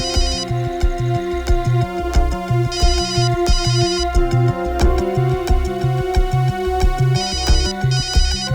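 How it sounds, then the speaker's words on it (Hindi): A loud electronic phone ringtone plays a repeating melodic pattern with chiming tones, cycling steadily without any voices. "पूर्वी का फोन?"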